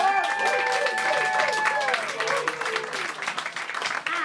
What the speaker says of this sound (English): Can we have one more massive round of applause for Jan Tanter?